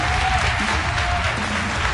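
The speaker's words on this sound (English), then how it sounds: "One final round of applause for our speakers." An audience gives a final round of applause for the speakers at a talk event, a continuous, even burst of clapping across the whole moment.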